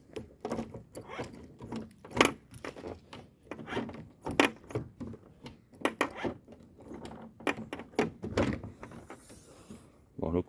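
A key works the trunk lock of a Peugeot 206 CC 2L 16v convertible, giving a quiet string of metallic clicks, jingles and latch clacks in irregular bursts, with a faint voice now and then.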